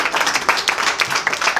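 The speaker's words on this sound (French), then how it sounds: "Applaudissez pour elles aussi, s'il vous plaît." Audience applause at a kids' event, a steady crowd of hands clapping continuously at moderate loudness with scattered sharper claps.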